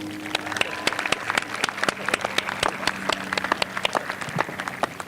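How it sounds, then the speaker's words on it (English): Audience applause at a Dover High School 2021 graduation ceremony, a dense, steady wash of many hands clapping with sharp individual claps standing out, continuous throughout. "Let's give a big round of applause."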